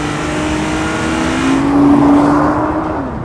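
A 2024 Nissan GT-R R35 T-Spec twin-turbo V6 pulling hard under load, its loud engine and exhaust drone rising in pitch and then easing as it shifts up, close and without talk.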